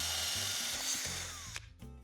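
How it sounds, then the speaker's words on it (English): A power drill bores a hole through cake, a steady close whirring grind that cuts off near the end, leaving brief handling noises. "So we're going to drill a hole,"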